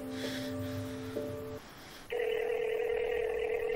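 A phone call is placed: a quick run of dialing tones, a short pause, then a steady electronic ringback tone, heard clearly and alone.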